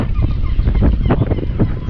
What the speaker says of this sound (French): Et il y a surtout beaucoup de mouettes.